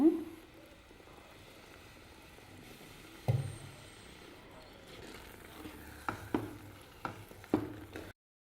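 Rice upma, finished with a little coconut oil and coriander leaves, is stirred in a pan: a faint low sizzle with several soft scraping knocks of a spoon toward the end, quiet and close, no talking.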